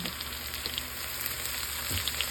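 Shrimp fry in a little oil with a steady, bright sizzle and scattered pops, close and continuous throughout.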